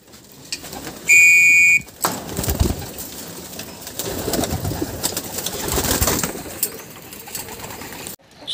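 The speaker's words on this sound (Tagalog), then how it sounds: "pumasok na yung mga ibon natin, nasa loob na sila at naghihintay na sila para kumain" Pigeons gathered inside their loft waiting for feed, with soft cooing and rustling wing movement throughout, opened by a brief sharp whistle tone and followed by steady shuffling and fluttering near the microphone.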